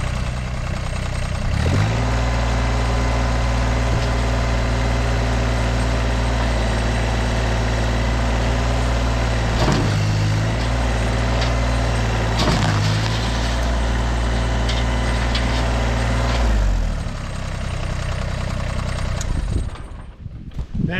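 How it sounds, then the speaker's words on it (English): A Massey Ferguson GC2300 compact tractor engine runs steadily close by, a loud, even diesel drone with a brief rev change midway, before it dies down near the end. "Massey Ferguson GC2300 Awesome tractor."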